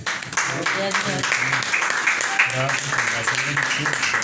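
A congregation claps during a Spanish-language church sermon, with moderately loud applause running throughout and voices and shouts mixed in.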